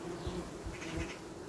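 Steady, close buzzing of many honeybees around a hive, a continuous drone with slight rises and falls and no voices.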